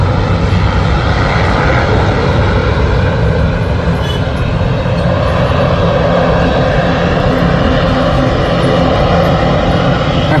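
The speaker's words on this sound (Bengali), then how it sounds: "বিমানটি ফ্লাই করে ফেললো।" Passenger airplane, a Dash model, taking off from Dhaka International Airport: a loud, steady engine roar that holds close and constant throughout, with no talk over it.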